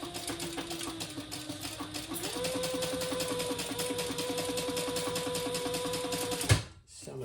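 A sewing machine chain-stitches a wallet in one continuous fast whirring run that shifts slightly in pitch partway through, then stops abruptly near the end, heard close up.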